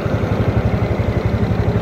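A motorcycle rolls slowly along a roadside in Meghalaya, its engine a steady, close, low rumble with a rhythmic throb running through the whole stretch, and no talk over it.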